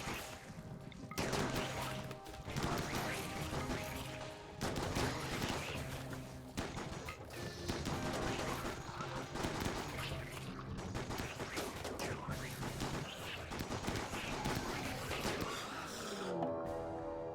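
Colonists in RimWorld fire at a flesh mass, producing a faint, continuous stream of gunshots in irregular bursts with smashing impacts mixed in, lasting over fifteen seconds.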